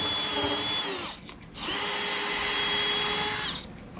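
Power drill boring with a Spectral drill bit: a steady, loud motor whine that dips briefly midway before resuming, close up with no talk.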